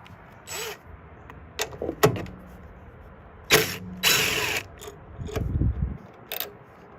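Ratchet wrench with an 8mm socket loosening fasteners on a Honda Element rear window. Several short bursts of ratcheting clicks come up close with pauses between them, and other handling knocks are mixed in.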